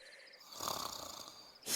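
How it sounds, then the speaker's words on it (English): A villager in Minecraft snores in the game, one drawn-out rasping, wheezy inhale that swells and ends in a short louder snort, close and clear with no talking. "Look, hear the snore?"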